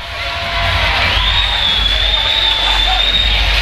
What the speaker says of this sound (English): And the crowd responding.